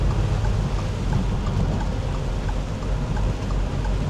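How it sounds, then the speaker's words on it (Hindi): Heavy rain drums steadily on a long-haul truck parked at night, a dense continuous wash of droplets with low rumbling underneath, loud and close with no voices. "बारिश तेज़ हो गई है फुल।"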